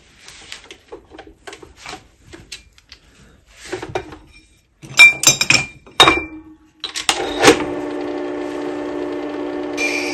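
A wood carving tool is sharpened on a 120-grit abrasive: a few light clinks and taps give way to a steady, loud ringing machine drone that runs to the end.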